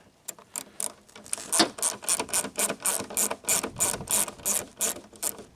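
A ratchet with a 7mm socket loosens the amber lamp fasteners on a Pontiac Aztek in a quick, close run of rapid clicking strokes, with brief pauses between bursts.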